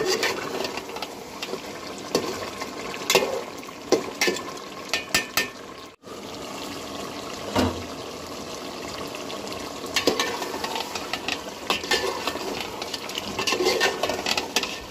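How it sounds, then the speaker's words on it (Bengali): Chicken pieces and garlic sauté in a pan over steady heat, a continuous crackling sizzle with intermittent scraping and stirring clatter throughout, close and fairly loud, with no talking. "রসুন দিয়ে আবার 5 মিনিট মতো কষিয়ে নেব।"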